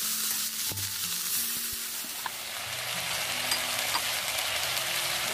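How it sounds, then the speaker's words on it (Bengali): Onion frying in a pan for a Bengali mustard-fish dish, a dense steady hiss of hot oil heard close, with faint low hums underneath and no speech. "আমি প্রথমে পেঁয়াজটা তুলে দিচ্ছি।"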